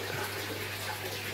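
Steady rushing water flows continuously during an aquarium water change, like a tap or hose running, with a faint low hum underneath and no voices.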